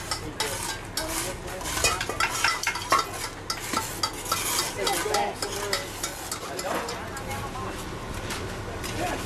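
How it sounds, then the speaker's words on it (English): Masa dough being mixed by hand in a kitchen in Brazil, a steady stream of soft slapping and stirring scrapes with an occasional utensil clink, while people talk in the background. "Mix in the masa."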